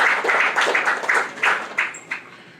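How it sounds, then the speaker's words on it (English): Applause from an audience at a real estate book launch in Lagos, a short burst of clapping in quick rhythmic waves that thins into scattered, fading claps. "deserves a round of applause"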